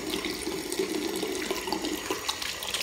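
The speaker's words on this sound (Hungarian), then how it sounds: "Egykezes kézmosás." A running water tap pours steadily into a sink while hands are washed one-handed beneath it, a close, continuous splashing gush with small irregular spatters and no talking.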